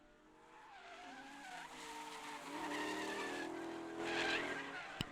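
Drift cars in a Drift Colorado Group B round, one a Cobra Mustang, skid through a corner with rising engine roar and long wavering tire squeal, fairly distant and faint, building toward the end.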